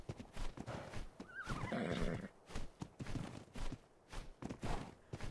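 A horse in the video game Ark Survival Evolved whinnies loudly over a rhythmic clip-clop of hooves, heard up close in a busy outdoor soundscape.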